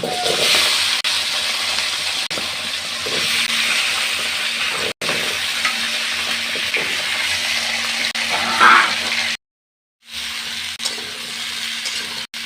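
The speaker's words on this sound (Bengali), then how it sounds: "এখন আমি তেলে দিয়ে দেব আলু এবং সিম" Potatoes and flat beans frying in hot oil make a loud, continuous hissing sizzle close by. It cuts out abruptly for a moment near the end, then resumes, with no speech.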